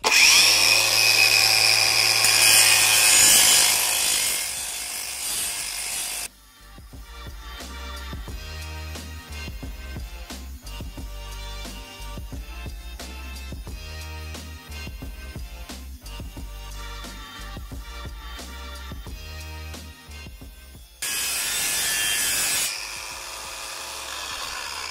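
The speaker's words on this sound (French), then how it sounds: "On va maintenant essayer le disque à meuler." A Makita DGA504 angle grinder fitted with a grinding disc, a steady loud whine throughout, with harsher, brighter bursts of grinding at the start and again near the end, close up with no talking.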